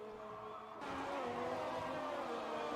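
Race cars in a Singapore Grand Prix racing video game roar steadily in broadband engine noise, which swells louder about a second in and holds as the cars run out on track.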